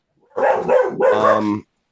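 A dog barks near the microphone during an indoor podcast recording, two quick, loud woofs back to back, the second drawn out into a whiny tone, with quiet before and after.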